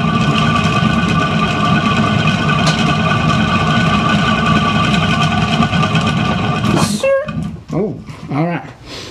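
A spinner motor turns an acrylic paint pour with a steady humming drone for several seconds, then winds down, its pitch sliding and wavering as it slows.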